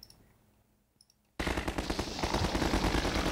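Rapid automatic gunfire from enemies in Half-Life 2 erupts after a quiet moment of faint clicks, a loud continuous burst of shots that keeps going to the end.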